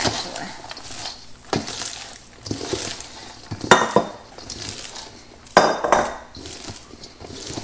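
A spatula scrapes and knocks against a bowl as melted chocolate is pushed onto popcorn, a series of close scraping strokes and clunks with a couple of louder hits.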